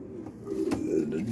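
Pigeons cooing in a loft among pairing birds, a soft low throaty coo rising over a short moment, close by with some background murmur.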